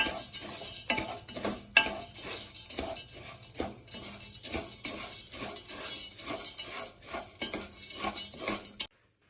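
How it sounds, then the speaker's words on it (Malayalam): Ada and sugar being stirred in a pan for palada payasam, with a steady run of scraping, clinking spoon strokes against the metal and a light sizzle underneath, close and continuous for several seconds. "കുറച്ചു നേരം ഒന്ന് ഇളക്കി കൊടുക്കണം."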